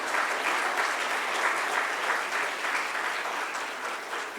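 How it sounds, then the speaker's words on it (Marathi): Steady, dense audience applause at a business conclave session, a continuous wash of clapping that holds even and fades slightly toward the end. "पुन्हा एकदा मी तुम्हाला टाळ्या वाजवायला सांगेन"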